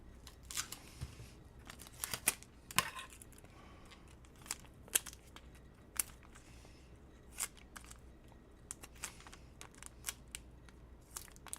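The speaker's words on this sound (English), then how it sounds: "this scissors is not so sharp. It's a little bit dull." Quiet, irregular snips and crisp clicks of slightly dull scissors cutting through paper, scattered sharp bursts with soft rustling between them.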